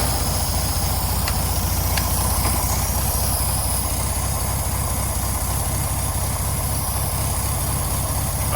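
A VW engine idling on its first start since a fire seventeen years earlier, a steady loud low rumble running evenly throughout with a faint ticking on top, no talk.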